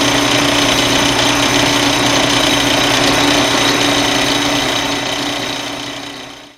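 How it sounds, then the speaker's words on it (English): A relatively large center drill cuts a starting point into the center of a small screw on a lathe, a continuous loud whirring machine drone that holds steady and then winds down at the end. "I'm just gonna do a little drill point with this relatively large center drill"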